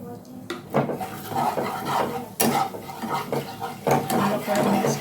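Spoon scraping and clinking in a cooking pan while ground coriander and turmeric are stirred in, a busy run of close metallic scrapes and taps with a soft sizzle underneath.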